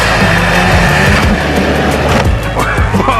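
An old Arctic Cat ZR 800 snowmobile, once abandoned in the woods, roars loudly at full throttle while hitting a jump, a dense, close engine howl with shifting pitch and wind rush throughout.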